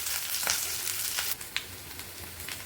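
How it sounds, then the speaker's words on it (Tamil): Onions with curry leaves, green chillies, mustard seeds and chana dal frying in hot oil for a jackfruit seed poriyal, giving a steady close sizzle with scattered sharp crackles and pops. "நல்லா பொரிஞ்சு வறுத்து வெங்காயம் போட்டுக்கலாம்."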